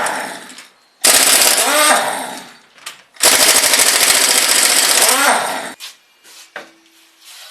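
An impact wrench removes the wheel from a Nissan Teana with a brake noise fault, firing in two loud, rapid rattling bursts of about a second and two seconds, with quieter clinks of parts in between.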